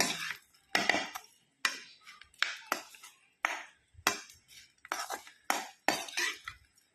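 Jaggery stuffing for poorna kozhukattai being mixed in a bowl with a spoon: a dozen or so sharp, separate clinks and scrapes in an uneven rhythm, close and quiet, with near silence between strokes.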